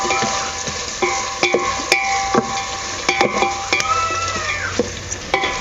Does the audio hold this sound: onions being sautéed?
yes